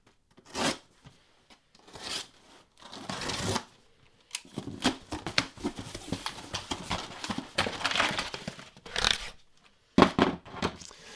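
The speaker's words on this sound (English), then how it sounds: "let's go ahead and cut in this box here" A knife slits open a cardboard shipping box packed with CGC-graded Silver Surfer comics, in a series of close, rasping scrapes and tearing bursts with brief pauses between strokes.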